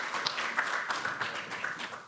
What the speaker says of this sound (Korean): 뜨거운 박수 보내주시기 바라겠습니다